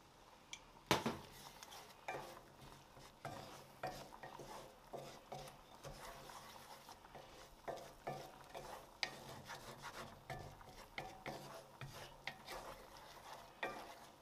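Flour cooks in a pan for mac and cheese while it is stirred, giving faint, repeated scraping strokes over a soft sizzle that continues throughout.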